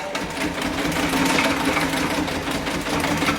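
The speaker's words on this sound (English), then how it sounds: "It's a replica of an old-time cocktail shaker. You got to get the flywheel going." A replica old-time cocktail shaker with a spinning flywheel runs in a cruise ship pub, making a steady, rapid mechanical whirring and clattering that is loud and continuous throughout.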